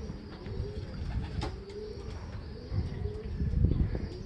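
Racing pigeons coo softly in a loft, low repeated throaty calls under a constant murmur of other birds, with a few chirps and faint rustling.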